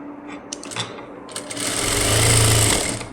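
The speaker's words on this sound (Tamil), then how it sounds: "தைச்சிட்டு இதை நம்ம டபுள் ஸ்டிச் போட்டுக்குவோம்" A sewing machine stitches fabric for thread piping, starting with a few short clicks and handling noises, then a steady loud motor whir with rapid needle chatter building and holding for over a second, near and with no talk.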